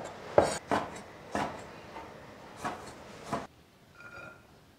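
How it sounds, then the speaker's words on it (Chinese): Knife chopping dried radish into small pieces on a board, about six crisp, close cuts at an irregular pace, followed by a quiet pause. "来切一下，就切成这样子的小节"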